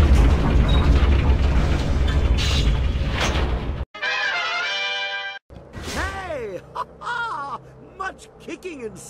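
Booming explosions in the action role-playing game Jade Empire, loud and dense through the first four seconds, then a stretch of whining mechanical tones and swooping creature-like cries after a brief drop-out.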